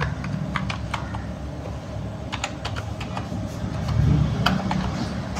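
Someone types a password on a computer keyboard while logging in to a TNEGA e-Sevai service portal. The keystrokes are light, irregular clicks heard close up over a steady low background hum.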